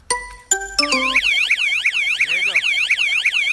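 A loud motorcycle alarm system sounds, starting with a few ringing beeps and then rising into a rapid, warbling siren pattern that continues steadily, close and loud, with a brief spoken remark.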